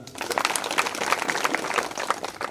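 Audience applause after a two-hour kirtan devotional performance, a steady, dense patter of many hands clapping together at close range, continuous for a few seconds with no voices over it.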